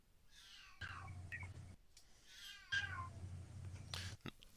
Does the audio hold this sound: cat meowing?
yes